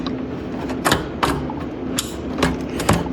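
A graphics card pressed into its PC motherboard slot, producing a series of sharp plastic clicks and snaps at irregular intervals, close and fairly loud, with no talking.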